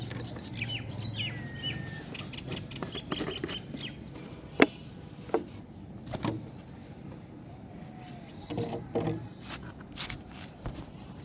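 Pigeons in a loft holding around forty birds, with scattered wing flaps, scuffling and a few sharp knocks over a low cooing murmur, fairly close and with no voices.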